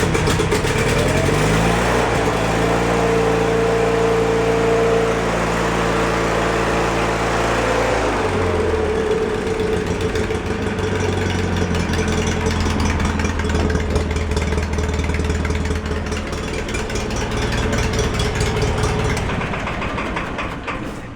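A welding trailer's engine cranks, fires up and runs loud and close, its revs settling down into a steady, droning idle that continues throughout.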